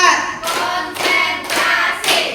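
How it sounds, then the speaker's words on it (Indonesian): A group claps in unison during a clapping game at a school principals' training session, four loud, evenly spaced bursts of many hands about half a second apart, with no talking over them. "Tepuk 1, tepuk 2, tepuk 3, tepuk 4"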